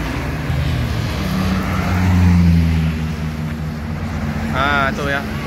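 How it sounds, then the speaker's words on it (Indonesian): A PO Harapan Jaya Mior bus passes close by at a roadside, its deep engine rumble swelling and fading under steady traffic noise, with a brief horn-like tone near the end and people talking. "Nah, itu ya bus Mior."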